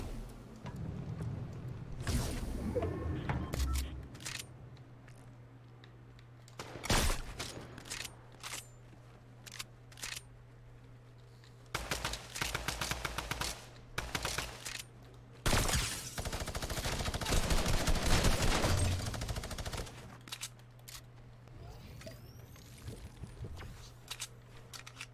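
Video game gunshots come in scattered volleys and rapid bursts, split by quieter gaps with a low steady hum underneath. The longest, densest stretch of firing falls near the end.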